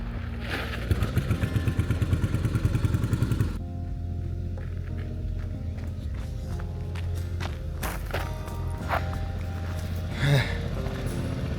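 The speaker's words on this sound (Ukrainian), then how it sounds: "мотоцикл на холостих знову заглох" A motorcycle engine fires up with a fast rhythmic rumble, then drops into a steadier idle before stalling, with scattered clanks and clatter nearby.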